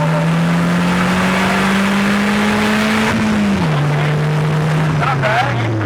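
A Polaris Slingshot engine drones loudly up close, its pitch dipping and then settling as the driver downshifts, with a rush of road and wind noise around it.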